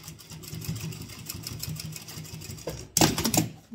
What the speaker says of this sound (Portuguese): vou bater uma costura aqui